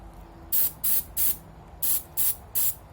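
Durablue finish sprayed in light passes onto a Savage/Fox Model B shotgun, seven short sharp aerosol bursts in an even rhythm, close and loud with no voices.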